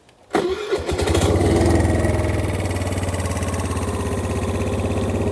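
A Suzuki Lets 4 scooter's small engine cranks and catches, then settles into a steady, loud idle that chugs evenly for several seconds.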